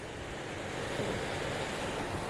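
Sea waves wash steadily, a soft, constant rushing surf with some wind noise, heard from a moderate distance with no distinct breaks.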